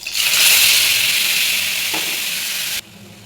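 Spice paste sizzles loudly in a kadai of hot oil seasoned with bay leaf and panch phoron, a bright steady hiss that fades slightly before cutting off sharply near the end.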